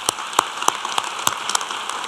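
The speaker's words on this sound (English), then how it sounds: "let's just give her a round of applause" Applause from a graduation ceremony audience comes as sparse, uneven claps spread across the room. It sounds thin and fairly quiet, like a small scattered crowd clapping lightly.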